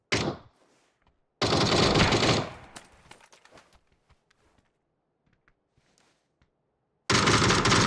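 Bursts of rapid automatic gunfire in a video game, loud and close, separated by a quieter stretch with scattered faint clicks and knocks.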